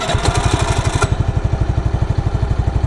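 A Suzuki Skydrive Sport motorcycle engine starts, a brief burst giving way to a close, steady, rapid idle pulse with a slightly uneven clatter, heard alone.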